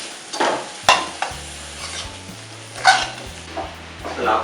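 Eggplant softening in a pan of onion and ginger-garlic paste gives a steady close sizzle broken by a few scraping stir strokes, with a low background hum.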